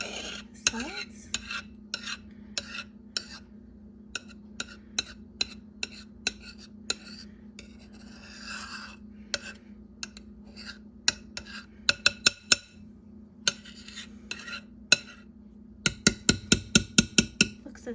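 Ricotta cookie ingredients are blended in a bowl by hand, with repeated sharp clinks and scrapes of a utensil against the bowl over a low steady hum, ending in a quick run of taps.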